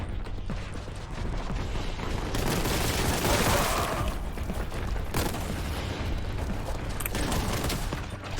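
Grenade blasts and gunfire in the shooter game Warhammer 40k: Boltgun, a dense, loud wall of booming explosions and rattling shots running continuously with a few sharper cracks, no voices.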